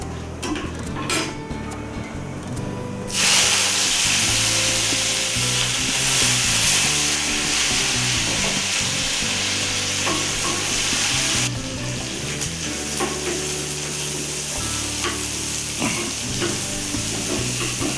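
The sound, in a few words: urad dal, curry leaves and onion frying in oil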